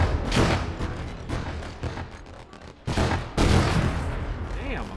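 Explosions in Gates of Hell: Ostfront, a World War II battle game, with several loud, close blasts and gunfire bursts, including a big detonation near the middle, over a rumbling battlefield.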